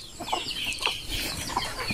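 Many chickens in a cage, a broiler pen on a Filipino farm, cluck and chatter continuously at close range, with scattered sharper calls over a dense, steady flock murmur.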